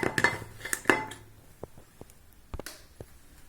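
Spoons and cups clink and clatter as ice cream is scooped into cups for falooda, a handful of sharp close knocks at the start, then scattered lighter taps.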